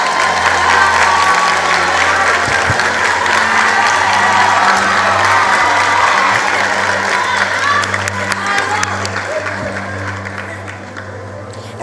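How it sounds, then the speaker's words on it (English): A large audience at a national matric results announcement breaks into sustained applause with cheering and whoops, loud and continuous, over a low held musical tone, thinning slightly toward the end. "A round of applause for KwaZulu-Natal."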